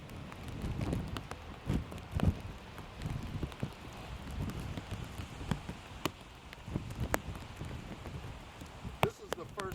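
Light rain patters on a camp, soft scattered drops and occasional sharper taps over a faint wash, quiet and close.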